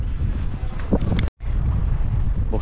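Wind gusting outdoors outside a bowling center, a steady loud rushing buffet across the microphone with a brief dropout partway through, no talk.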